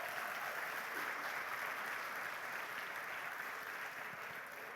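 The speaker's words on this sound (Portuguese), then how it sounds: "Você pode dar um aplauso ao Senhor?" Church congregation applauding the Lord during a service, a steady dense wash of clapping that holds evenly throughout, heard from a distance at moderate level.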